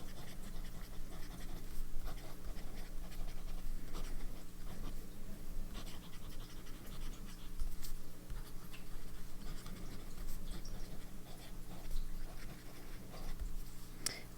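An extra fine nib fountain pen filled with Birmingham Pen Company Turquoise ink scratches steadily across paper in a faint, continuous rasp of close-up strokes.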